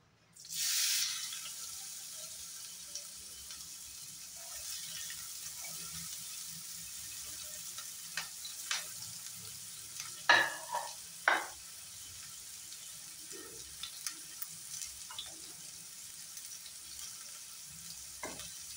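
Chopped onions dropped into a hot pan begin frying for a soy chunk dry fry, giving a steady soft sizzle with scattered crackles and a few louder spits and stirring clinks near the middle, close up and with no talking.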